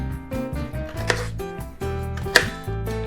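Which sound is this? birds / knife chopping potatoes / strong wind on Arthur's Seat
knife chopping potatoes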